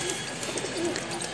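Large Punjabi pigeon cooing close by in a soft, repeated low throaty pattern over a steady background hiss, with no voices.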